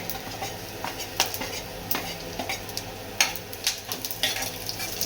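Cardamom, pepper, coconut, coriander and cumin frying in a pan for a Karnataka-style sprouted horse gram curry, a steady soft sizzle broken by several sharp scrapes and clinks of a spoon stirring the spices.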